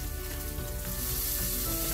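Potatoes frying alongside sliced sausage in a pan, a loud, close, unbroken sizzle with a dense crackling hiss and no voices.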